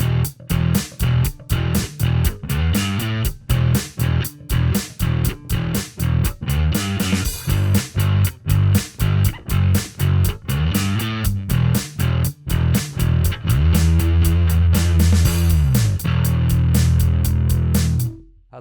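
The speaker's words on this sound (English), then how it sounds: "it's got a drum mode built in that sounds like this." Built-in drum machine beat from a Sonicake Matribox II Pro multi-effects processor, punchy kick and snare hits in a steady repeating groove with cymbal wash, loud and close, ending in a sustained crash.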